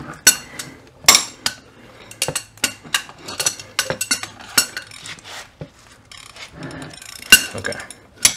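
An adjustable wrench turns on a control arm ball joint of an Infiniti M45 or M35, producing scattered sharp metallic clinks and clanks at irregular intervals, close and fairly loud.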